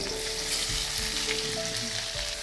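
Paneer pieces fry in a light layer of groundnut oil, a dense steady sizzle close by with soft spitting pops and a few low knocks from the pan.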